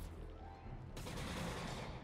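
Gunfire at a prison camp in Spider-Man Remastered: dense, continuous bursts of shots that swell louder after the first second and keep up for the rest of the clip, with no talk over them.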